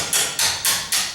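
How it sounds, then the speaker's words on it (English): A hammer taps upward against a door hinge pin on a tall interior wood door, four sharp, evenly spaced metallic strikes close by, each ringing briefly before the next. "Now I just hit my hammer on this."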